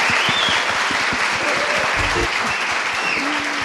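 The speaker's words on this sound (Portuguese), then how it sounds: "Palmas para eles." An audience at a children-and-nature seminar applauds speakers with dense, even clapping throughout, while faint voices murmur under it.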